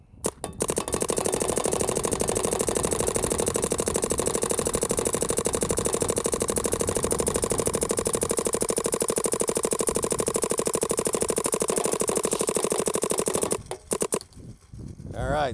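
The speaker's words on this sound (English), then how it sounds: "So let's go ahead and run through some paint real quick." A Planet Eclipse Geo 4 paintball gun fires paint in a long, rapid, continuous stream of loud close shots, stopping abruptly near the end.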